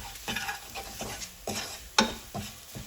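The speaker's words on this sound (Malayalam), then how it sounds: "ഇനി നമുക്ക് ഇതും കൂടി ഒന്ന് മുരിഞ്ഞ് കിട്ടാൻ സമയം കൊടുക്കാം" Crushed chilli and Kashmiri chilli frying in oil in a pan, a soft sizzle broken by repeated stirring scrapes at an irregular rhythm, close and fairly quiet.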